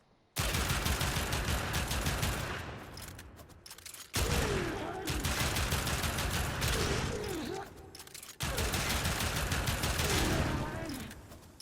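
Sustained automatic gunfire from the Pyrana Prime shotgun pistol in the game Warframe, three long dense bursts of rapid shots broken by brief pauses, loud and continuous, with a voice talking faintly underneath.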